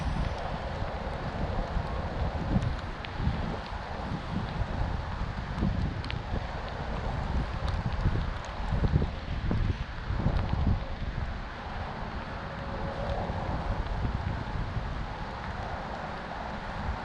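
Steady wind gusting across a big river on a rainy early-spring day, a broad continuous rush with buffeting against the microphone that swells and eases throughout, with no voices.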